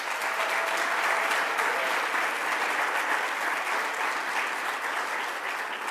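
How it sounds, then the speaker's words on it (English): Sustained audience applause at a public event for a borough president, a dense, steady wash of many clapping hands holding at an even loud level throughout. "let's give a round of applause to our borough president, Donovan Richards."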